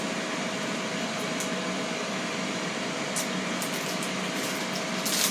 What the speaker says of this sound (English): I'm air frying some chicken Kievs.